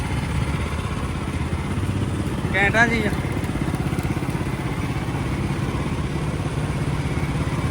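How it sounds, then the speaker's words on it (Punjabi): A small motorcycle engine chugs steadily close by, a constant low mechanical rumble, while a voice briefly speaks over it. "ਦੇਖੋ ਇੰਜਣ ਯਾਰ ਛੋਟਾ ਜਿਹਾ ਇੰਜਣ"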